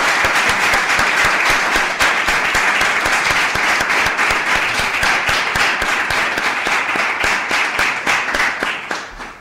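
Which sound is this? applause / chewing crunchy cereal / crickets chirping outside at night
applause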